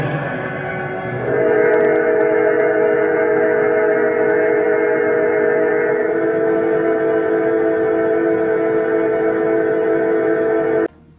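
A MINI Electric car gives off a futuristic, spaceship-like synthesized hum as it passes, a steady layered drone that swells in after a second and holds loud before cutting off abruptly near the end.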